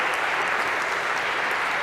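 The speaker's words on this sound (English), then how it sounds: "a round of applause for our brave volunteers" An audience at a lecture gives a round of applause for volunteers, a dense, steady clapping that fills the whole moment without a break.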